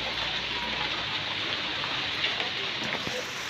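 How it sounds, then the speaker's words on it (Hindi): Heavy rain pours down in Karachi's Buffer Zone, a dense, steady hiss of downpour that holds at an even, loud level without a break. "बहुत तेज़ बारिश का सिलसिला दोबारा से जारी हो गया है।"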